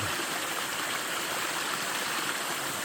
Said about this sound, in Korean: 아, 물이 참 깨끗하네요. 아. 물소리도 이렇게 나고